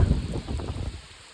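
Rain falls at a forest hideaway at Plankudikkavu in Kerala, a brief broad wash of steady patter mixed with low wind rumble against the microphone, fading slightly toward the end.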